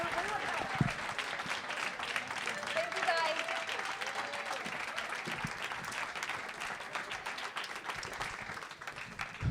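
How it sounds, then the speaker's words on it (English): An audience at a live podcast event in an art space claps for a guest, a steady spread of mid-loud applause with some voices and cheers mixed in under the clapping. "Clap it up for her."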